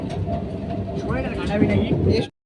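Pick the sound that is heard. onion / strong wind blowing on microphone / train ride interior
train ride interior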